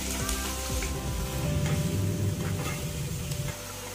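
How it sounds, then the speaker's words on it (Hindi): Onions sizzling and frying in hot oil in a kadhai for egg curry, a steady close crackle with occasional stirring clinks, no voices. "तेल गर्म हो जाए तो उसमें हम प्याज डालेंगे।"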